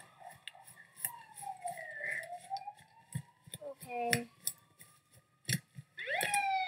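A wailing police-style siren sweeps slowly up and down at moderate distance in a horror game map, mixed with clattering effects and brief talk.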